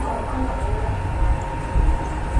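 A sleeper train to Bangkok rumbles low and steady along the rails, heard from inside, with a faint hum and occasional heavier thumps.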